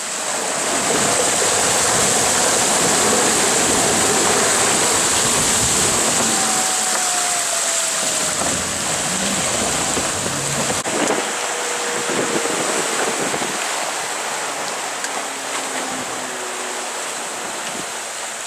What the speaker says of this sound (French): La mer est formée, hein.